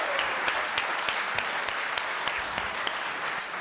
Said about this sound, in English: Everybody give Aiden and Muhammad a big round of applause.